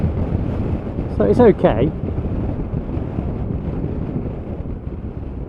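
Riding a 2020 Zero SRS electric motorcycle produces a constant buffeting rumble of wind across the rider's microphone, with someone speaking briefly over it.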